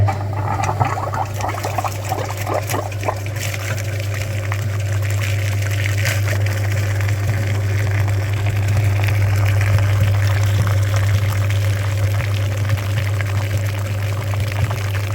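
Coolant flushing machine pumping antifreeze through the cooling system of an Opel Vectra B 2.2 TDI, a steady loud motor hum with continuous gurgling, bubbling liquid flow and scattered clicks over about fifteen seconds.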